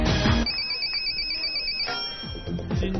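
A telephone ringtone sounds on the 2010 Chinese TV game show Feichang 6+1 as a call connects: a loud, steady electronic ring holds for over a second, with studio noise before and after and no talk.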